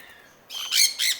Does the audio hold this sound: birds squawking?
yes